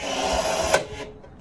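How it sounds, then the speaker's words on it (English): A Milwaukee rivet gun sets rivets into camper van panels, a short whirring mechanical buzz with a sharp click partway through, then quickly tapering off. "Got that beautiful Milwaukee rivet gun there."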